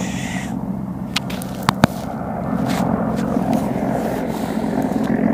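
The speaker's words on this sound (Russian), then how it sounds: "Вертолеты." Helicopters fly overhead above a frozen lake during late-season ice fishing, a continuous distant rotor rumble with a few sharp clicks and taps close by.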